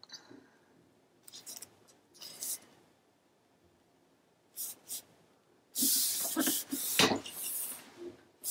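Scissors trimming a patterned paper piece for a Graphic 45 mini album, with quiet snips early on and then louder, longer cutting strokes near the end.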